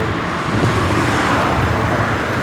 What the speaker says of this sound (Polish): Znowu ten pojazd jedzie.